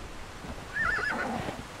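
A horse in the Conan Exiles video game gives one whinny over a low ambient bed, the neigh rising and wavering through the middle of the clip.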